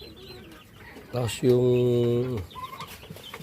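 Farm chickens cluck and one gives a sustained, tonal call, loud and close, with a person speaking briefly before and after.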